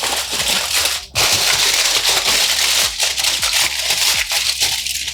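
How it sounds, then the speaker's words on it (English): Tin foil crinkles and crumples over a cake tin for steamed lemon mini cakes, a continuous close crackling rustle that runs the full length without pause. "This has to be then covered with either cling film or with the roasting foil"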